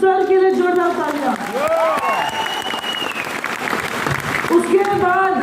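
Audience clapping at a promotional program in Guwahati, a dense sustained burst of applause filling the hall, while an amplified voice and music carry over it.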